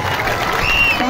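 Crowd clapping at an outdoor desi wrestling bout at a mela dangal, a dense, steady wash of applause and crowd noise that holds for about a second with voices mixed in.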